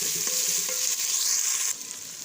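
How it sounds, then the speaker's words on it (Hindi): Tomatoes and green chillies go into a pan of sautéed ginger and cook with a bright, hissing sizzle and a couple of light stirring knocks, the hiss dropping suddenly in level near the end. "अब इसमें डालेंगे टमाटर, हरी मिर्च और इसको अच्छी तरह से गलाने तक पका लेंगे"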